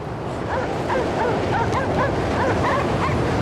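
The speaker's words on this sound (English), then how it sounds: "The dog's barks lead me to victory." A dog in the video game Cryostasis, set aboard an icebreaker near the North Pole, barks and yips repeatedly over a steady rushing ambient background.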